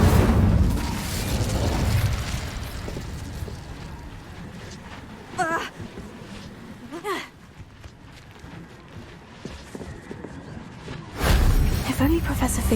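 The Incendio fire spell cast in Hogwarts Legacy comes as loud whooshing bursts at the start and again near the end, with quieter flare-ups in between and a voice speaking over the game sound.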